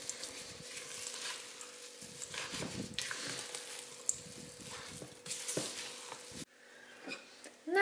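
A spoon stirs a thick homemade poppy seed filling flavoured with almond aroma. It makes close, irregular scraping and squelching strokes with short pauses between them, and the sound is fainter near the end.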